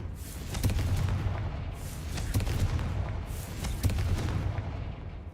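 Confringo fire spell explosions in the Hogwarts Legacy video game, a steady low rumbling roar broken by repeated sharp cracking bursts, fairly faint and spread throughout without a break.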